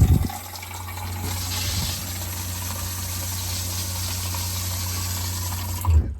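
A truck camper's water pump hums steadily while water runs from the tap in a continuous close rush, starting and stopping with thumps at each end.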